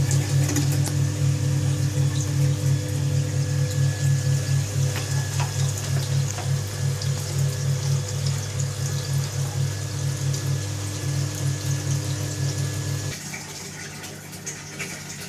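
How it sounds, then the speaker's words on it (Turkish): Dirty water steadily gushing and draining out of a home heating radiator during a flush cleaning, a loud continuous rushing flow with pump-like hum that drops off abruptly near the end. "Şu an petekteki su çıkıyor."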